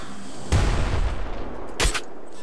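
Machine gun fire in the top-down shooter video game Nuclear Throne, two short bursts of crunchy, booming shots about a second apart over steady game background noise.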